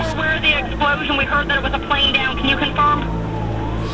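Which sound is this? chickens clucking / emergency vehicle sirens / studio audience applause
emergency vehicle sirens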